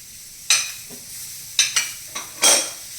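Two tomatoes stirred in a frying pan for kadai paneer gravy, with a quiet background sizzle and five sharp scraping stirs of a utensil against the pan.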